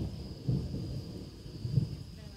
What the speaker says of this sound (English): Thunderstorm watch number one,